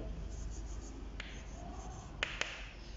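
Pen or pencil strokes write out an addition problem by hand, faint scratchy scribbling close up with a couple of sharp taps near the end, quiet and without speech.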